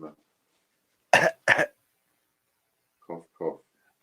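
A person coughs twice in quick succession, close and dry, with short bits of speech before and after amid otherwise quiet.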